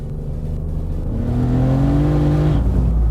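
A turbocharged E36 BMW M3 making 675 hp accelerates hard, its engine note climbing steadily in pitch and loudness, then dropping sharply around a gear change and picking up again, close and continuous with no voices.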